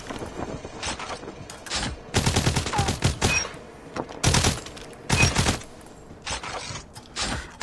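UL736 rifle fire in Call of Duty Mobile: several sharp bursts of rapid automatic shots in short volleys separated by pauses, loud and close with mechanical clicks between them.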